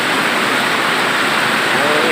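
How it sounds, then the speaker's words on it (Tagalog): Heavy rain pours down steadily, a loud, dense wash of hiss that fills the whole clip without a break, close by and continuous. "Grabe, lakas ng ulan."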